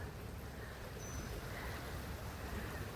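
Rainwater runs in a backyard creek below a hill, giving a steady, fairly faint wash of noise throughout with no talk.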